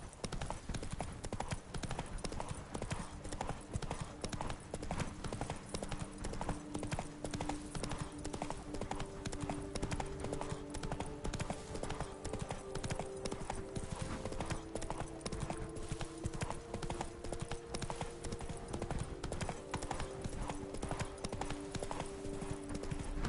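Roach the horse's hooves clip-clopping in The Witcher 3 on PS5, a steady trotting rhythm of close hoofbeats that continues throughout, with a low ambient bed underneath.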